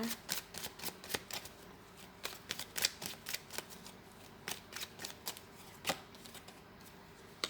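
Tarot cards are shuffled close by in a quiet room, with soft repeated riffling and flicking bursts in an irregular rhythm throughout.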